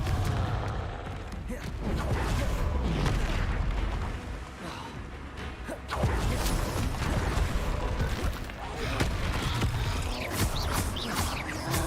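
Confringo blasting spells go off in Hogwarts Legacy combat, a dense run of loud, booming explosions and crackling blasts that keep coming with hardly a break, dropping briefly midway before surging again.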